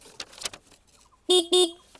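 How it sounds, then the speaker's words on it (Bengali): Scooter horn, Hero Xoom 160 or TVS Ntorq 150, sounded in two short loud beeps in quick succession after a few faint handling clicks. "এটা হচ্ছে আপনার হর্ন আমি দেখিয়ে দিচ্ছি"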